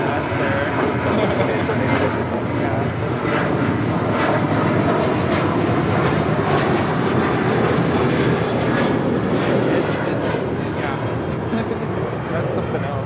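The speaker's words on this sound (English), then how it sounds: "This is Southwest 2878 departing to Nashville on a 737-700." Southwest Airlines Boeing 737-700 taking off from Los Angeles International Airport bound for Nashville, a continuous loud engine roar held throughout, with voices talking close by.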